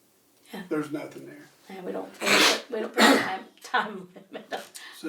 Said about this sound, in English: That was tandem sneezing.